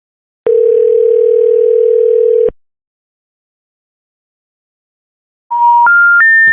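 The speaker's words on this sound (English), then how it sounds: "The number you have dialed has been disconnected or is no longer in service." Loud telephone line tones: a steady two-second tone, a pause, then three rising beeps of the intercept signal that precedes a disconnected-number message, clear and alone.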